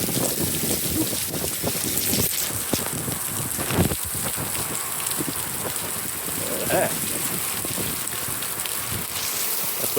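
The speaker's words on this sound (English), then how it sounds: "The top and the hood getting a good rain on it." Rain pattering on a car's roof and hood with a PPF-protected front, a dense close hiss of drops with scattered louder splats, steady throughout, with a voice speaking at times.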